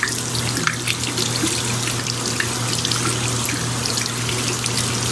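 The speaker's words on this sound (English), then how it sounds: "We're gonna rinse." Tap water runs steadily into a sink as a makeup brush is rinsed, a continuous close splashing rush with no break and no voices.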